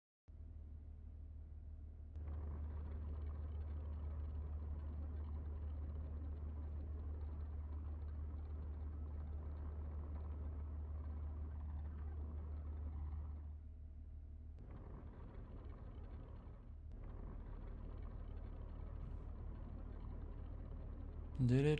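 Trucks drive in an automation and factory-building video game, giving a faint, steady low engine drone that runs almost unbroken, with a short dip partway through and a brief sharper sound at the very end.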